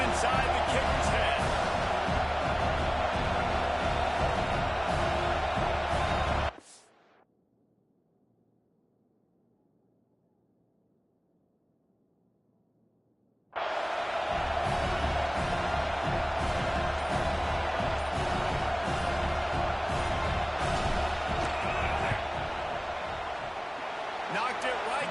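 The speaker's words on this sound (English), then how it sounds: "This crowd trying to do its part to get inside the kicker's head." A college football stadium crowd roars loudly for an Ohio State at Iowa field goal attempt, a dense sustained din that drops out abruptly to near silence, then surges back just as loud.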